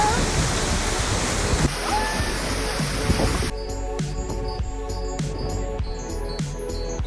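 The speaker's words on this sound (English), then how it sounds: "Waterfalls over here." Rushing water from a waterfall in the Scottish Highlands near Glengarry, a steady broadband roar that stays loud and close, then shifts midway as wind or handling noise and faint tonal sounds join it.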